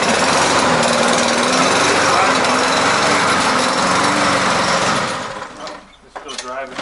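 A self-propelled lawn mower engine runs loud and steady close by, then cuts out near the end, leaving quieter handling noises.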